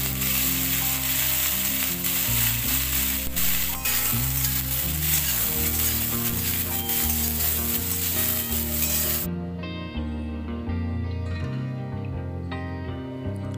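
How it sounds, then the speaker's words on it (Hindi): Potatoes and cauliflower fry in a kadhai with a loud, continuous oily sizzle for several seconds, which then abruptly drops to a quieter simmer with light crackle, beneath a steady background of stepped musical tones, without speech. "हमारे आलू और गोभी अच्छे तरीके से फ्राई हो चुका है।"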